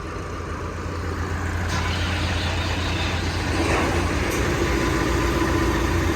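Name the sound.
tractor engine starting and idling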